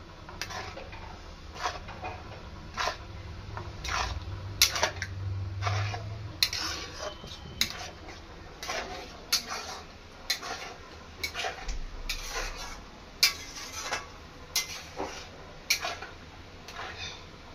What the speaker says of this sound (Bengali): এটা একটু নাড়ছি যাতে একটু তাড়াতাড়ি ঠান্ডা হয়